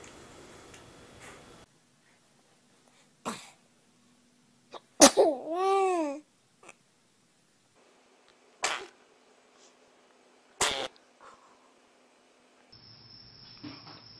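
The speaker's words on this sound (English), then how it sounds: "Baby sneeze fart." A baby gives several short, sharp sneezes spaced apart across a quiet room, with soft babbling and a few faint clicks between them.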